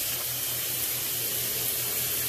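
Water sprays steadily over a glass shower door while it is rinsed, a continuous close hiss and splash with no pauses and no voices.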